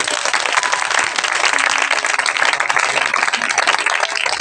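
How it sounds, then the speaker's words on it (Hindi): Audience applause at a Hindi-language Christian church gathering with a bishop, steady dense clapping from a crowd filling the space without pause, loud and continuous throughout. "ताली बजाइए यीशु मसीह के लिए"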